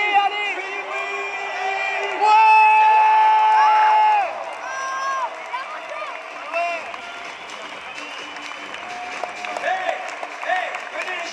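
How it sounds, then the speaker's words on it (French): A large crowd cheers, whistles and applauds at an indoor motorcycle trial event in the Metz arena, a reverberant hall, with a steady roar of voices throughout. "fais du bruit, fais du bruit."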